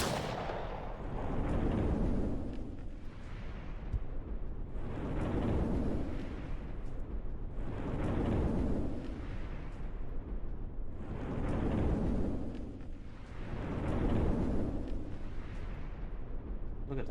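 Explosive barrels in a video game going off in a chain reaction, a series of heavy booming blasts about every two seconds, each swelling and rumbling away into the next, loud and continuous.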